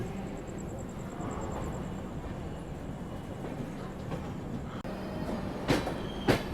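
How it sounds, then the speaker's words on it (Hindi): Mahamana Express train rolling slowly into a station after waiting at the outer signal, a steady rumble of wheels on rails with faint clicks and a couple of sharp squeals near the end. "आउटर में लगभग 10 से 15 मिनट खड़े रहने के बाद महामना एक्सप्रेस को आराम से एंट्री दी जा रही है"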